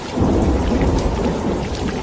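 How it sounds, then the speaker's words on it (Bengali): Heavy rain pours down in a thunderstorm on a stormy night, a loud dense roar of rainfall with rumbling thunder blended underneath, continuous for a couple of seconds. "এত ঘন হয়ে বৃষ্টি পড়ছে যে দুহাত দূরে আমার বাইকের আলোটাই ক্ষীণ হয়ে চোখে পড়ছে"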